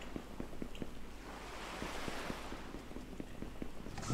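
Ocean waves in the survival crafting game Ocean World Eden Crafters Prologue, a soft, continuous wash of surf with gusty wind, plus light regular ticking clicks underneath, quiet and with no talking.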